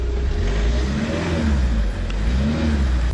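A Tata Safari Storme 4x4 engine pulls hard under steady acceleration, a loud continuous drone with a faint high whistle riding over the low rumble throughout.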